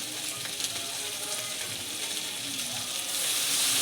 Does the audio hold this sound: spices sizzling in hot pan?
yes